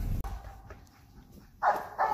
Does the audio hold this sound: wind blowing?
no